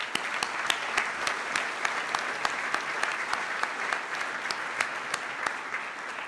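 An audience at an awards banquet gives a sustained round of applause: many hands clapping steadily and densely across an indoor room.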